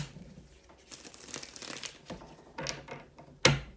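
Cards are shuffled by hand in quick riffling bursts with soft papery crinkles, ending in a sharp snap as the deck is squared up.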